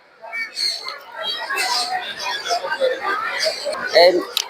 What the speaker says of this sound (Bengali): এখানে কিন্তু বড় বড় মেকাও আছে